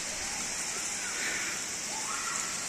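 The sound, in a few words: small waterfall flowing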